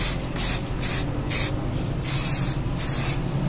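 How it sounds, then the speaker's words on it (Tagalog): Quick-dry acrylic lacquer spray paint is applied to a Yamaha Mio Sou scooter body kit in several hissing aerosol bursts, each about half a second long with brief pauses between, close and loud over a low background hum. "Quick drying lacquer spray."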